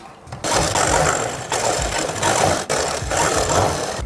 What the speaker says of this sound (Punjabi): ਹੁਣ ਇਹ ਉਰੇ ਸਲਾਈ ਲਾਉਣੀ ਸ਼ੁਰੂ ਕਰ ਦਾਂਗੇ